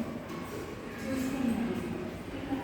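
A Brookfield viscometer spindle turning at 100 RPM gives a steady, low motor hum with a faint tonal whine, continuous and fairly quiet throughout.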